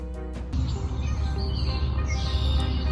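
Migratory birds call at Lake Poyant at sunset, several bright chirps and tweets over a low background rumble, the calls coming in short bursts throughout.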